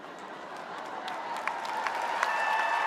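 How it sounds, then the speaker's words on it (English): Cheers and applause from a crowd welcoming graduates at an undergraduate commencement ceremony, a steady wash of distant clapping with a few brighter whoops rising over it. "Please make those graduates feel welcome with cheers and applause."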